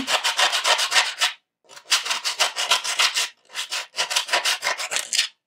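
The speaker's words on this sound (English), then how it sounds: "A little bit of sanding." Three bursts of rapid back-and-forth sanding strokes on a plastic armor part, each lasting over a second, with short pauses between, close and fairly loud.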